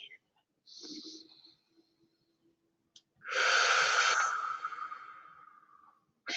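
Deep, slow breaths are drawn in and let out close to the microphone: a short inhale, a quiet pause, then a long, loud exhale that fades away before the next breath begins.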